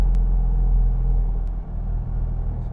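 A car climbing a steep hill on a single-track road in first and second gear, a steady low engine rumble heard from inside, loud and constant.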